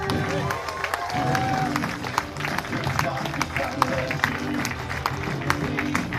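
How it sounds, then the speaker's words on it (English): Applause at a sheep show at an agricultural show, with scattered clapping and crowd noise, a steady wash of hands under some background chatter, fairly close and moderately loud. "Give them a round of applause."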